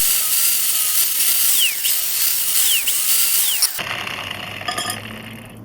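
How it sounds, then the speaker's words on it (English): Grinder cleaning out a metal channel in a workshop, a high whining tool sound with a few short rising sweeps, then an abrupt change to a lower, rougher grinding tone near the end. "And just hit it with the grinder."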